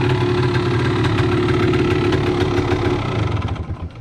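A vintage enduro motorcycle engine idles close by with a steady, throbbing mid-pitched beat that wavers and dies down near the end. The machine is a 1978 Yamaha DT-250 or a 1972 Honda.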